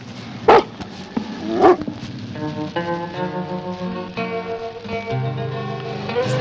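A dog on the moor near Dartmoor barks twice in sharp, loud yaps near the start, then whimpers and yips in a drawn-out, wavering whine, alone without speech.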